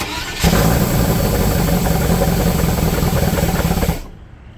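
Range Rover Classic, sat unused since 2009 and fitted with a non-original engine, runs loudly and steadily close by, a dense rough roar that holds evenly before cutting off abruptly near the end.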